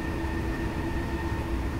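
A Baureihe 423 electric commuter train in Railworks Train Simulator runs at steady speed, its constant motor whine and rolling rumble even and uninterrupted for about two seconds, with no voices.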